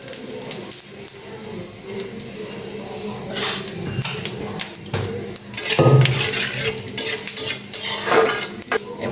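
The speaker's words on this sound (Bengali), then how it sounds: "গোটা মশলা ফোড়ন দিয়ে দিব।" Whole spices tempering in hot oil for chana dal, with a soft sizzle under frequent metal spoon scrapes and pan clatter, close by; brief louder clanks come and go.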